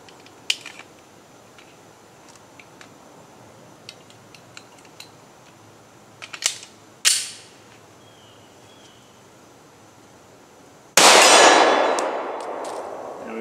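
A 9mm pistol fired over a chronograph outdoors gives one loud sharp report that decays into a long ringing tail, after several fainter clicks and two brief sharp bangs earlier on.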